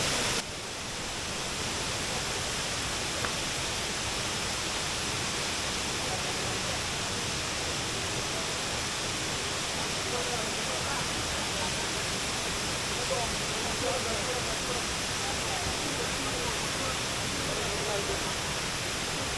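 A waterfall at Vattavada in Idukki, Kerala roars in a steady, dense rush of white-noise water that holds unchanged throughout, close and loud.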